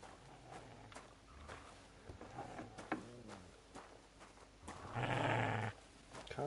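A dog in the medieval role-playing game Kingdom Come: Deliverance II lets out a short, loud, low growl partway through, set against quieter in-game ambience.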